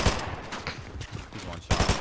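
Rapid bursts of automatic gunfire from the video game Fortnite, loud and close, with a stutter of shots, a brief lull, then a fresh volley near the end.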